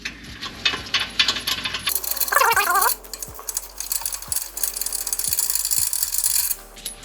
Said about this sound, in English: go ahead and loosen or take out these bottom bolts right here.